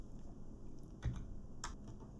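Shader code typed on a computer keyboard, a few sparse, soft key clicks and one louder tap, close and quiet, with no talking.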